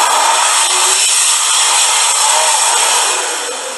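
A World Dryer Airforce hand dryer blasts a loud, steady rush of air at close range, easing off slightly at the end.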